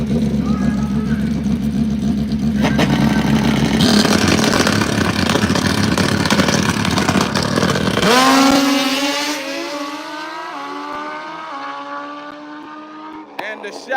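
Drag racing motorbikes launch at Maryland International Raceway with loud roaring engines that climb in rapid rising pitch and then fade into the distance, while an announcer talks over the noise and the crowd can be heard.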